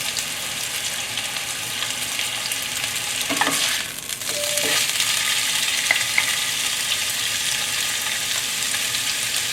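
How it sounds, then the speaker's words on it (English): Pork sizzles and crackles steadily in a hot non-stick pan during a high-heat stir-fry with giant yellow bean sprouts, close and continuous with brief scraping stirs midway. "You want to hear the sizzle sound"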